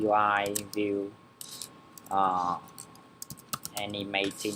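Keystrokes on a computer keyboard tap in short clustered bursts, close and fairly loud, under and between steady stretches of someone talking.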